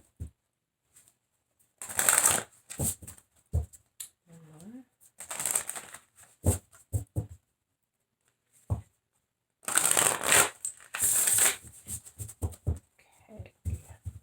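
Tarot cards are shuffled in three brisk riffling bursts, close and crisp, with quiet gaps and bits of soft talk between them.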